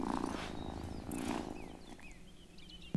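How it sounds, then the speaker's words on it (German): A cat purrs in the video game Wylde Flowers, a steady close rumbling purr under soft game ambience, with brief chirpy bird-like tones in the background. "Oh, what a good purr."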